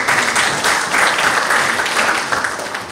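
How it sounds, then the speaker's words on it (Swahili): A crowd at an official ceremony applauds a company, dense sustained clapping from many hands, loud and close, holding steady for a few seconds before easing slightly. "Makofi kwa kampuni ya Jeuzi."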